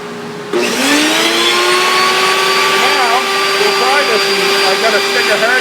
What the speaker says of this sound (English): So now we'll start the power feeder.